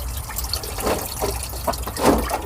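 Coolant pours and splashes from a pulled hose on a 2008 Ford Mustang into a drain pan below, an irregular liquid trickle and gush, close up.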